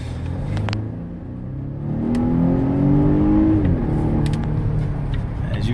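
Volvo S60 Polestar sedan accelerating in power mode, heard from inside as a steady engine growl rising in pitch and then easing, loud and continuous.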